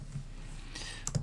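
A single computer keyboard key, the escape key, clicked close up, preceded by a faint tap in an otherwise quiet room.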